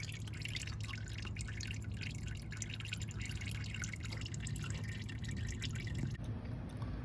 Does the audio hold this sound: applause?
no